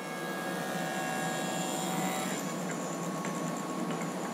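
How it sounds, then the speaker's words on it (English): A power tool cuts a truss rod slot into a wooden guitar neck, producing a steady loud whirring roar that holds without pause, close up and with no talking. "I'm just going to cut a slot in these to install the truss rod."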